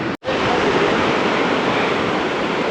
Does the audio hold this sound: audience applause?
no